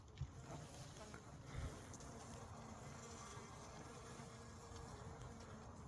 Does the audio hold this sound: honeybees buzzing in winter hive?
yes